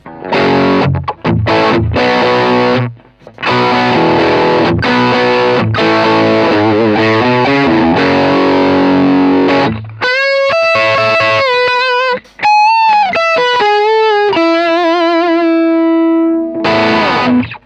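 Electric guitar driven through a Nobels ODR-1 overdrive pedal into a Peavey Bandit 65 solid-state amp, chugging gritty chords and riffs, then brighter single-note lines with ringing bends, loud and continuous.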